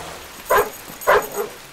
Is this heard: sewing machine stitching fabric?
no